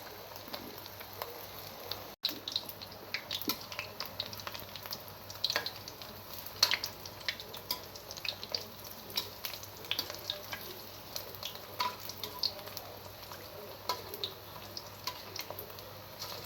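Low, steady sizzle of fish roe and bottle gourd fritters shallow-frying in a pan, with faint crackles and pops scattered through a continuous hiss and an occasional small clatter.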